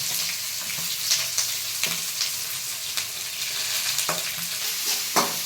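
Onions and curry leaves fry in a pan for egg rice, giving a steady close sizzle broken by scraping stirs.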